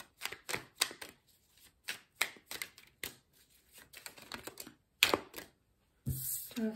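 Oracle cards are shuffled by hand in a quiet room, a run of sharp, close riffling snaps and soft card slides in bursts, ending with a brief rustling flurry.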